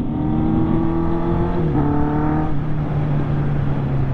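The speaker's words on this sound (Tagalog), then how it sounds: "Oh, may kotse." Car driving past on a street, heard as a steady engine hum with a brief pitch shift midway as it passes, moderately close.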